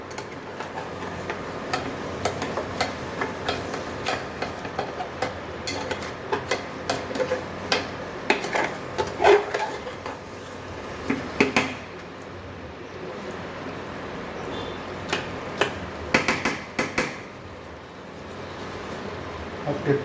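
Mutton curry masala is stirred and fried bhunna-style in a pot over 300-watt heat, with repeated scraping and tapping of a spoon against the vessel in an uneven rhythm over a soft sizzle.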